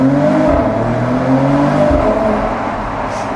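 A 2021 Mercedes-AMG E53 Cabriolet engine drones loudly inside a tunnel, its tone climbing and falling through shifts in a smooth continuous roar heard from the cabin, with no voices.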